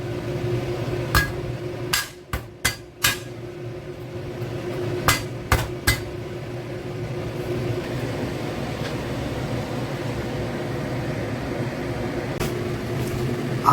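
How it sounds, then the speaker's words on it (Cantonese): Peeled ginger smashed flat with the side of a kitchen knife: about eight sharp, loud thumps in two quick clusters over a steady background kitchen hum. "跟住用刀將薑拍片"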